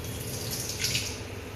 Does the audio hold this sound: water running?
yes